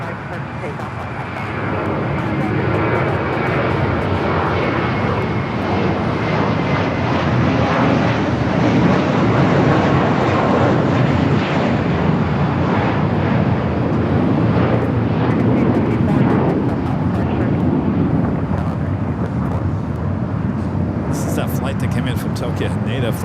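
A jet airliner taking off from runway 25 Right at Los Angeles International Airport, a steady broad engine roar that stays loud and continuous throughout, with faint background voices.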